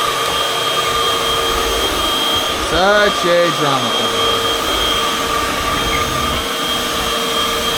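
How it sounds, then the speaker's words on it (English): A household vacuum cleaner drones steadily at close range, with a voice speaking briefly over the whine partway through. "I'm gonna vacuum under there just so you know."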